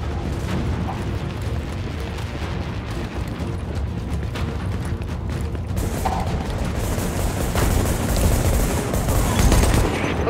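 Weapons firing in the video game Tom Clancy's The Division: dense, sustained volleys of gunfire with booming impacts, loud and continuous throughout, growing heavier toward the end.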